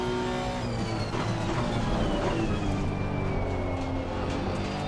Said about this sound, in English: Love the engine.